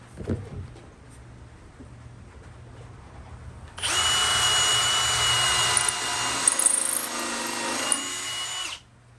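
A power drill drives screws into recycled wood for a double bicycle rack, a loud steady whine running about five seconds after a quieter stretch of background noise.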